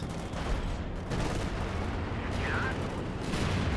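A mortar half-track fires in a wartime strategy game, dull booms and gunfire thudding amid a constant roar of battle noise, while a commentator talks over it.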